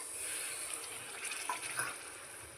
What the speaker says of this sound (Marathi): मी ह्याच्यामध्ये पाणी ॲड करणार आहे पाणी ॲड करायचं आहे